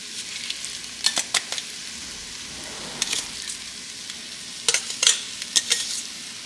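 Noodles stirred into a pad Thai stir fry in a pan, giving a steady low sizzle broken by a few sharp scraping stir strokes near the start and a cluster of crisp clatters toward the end.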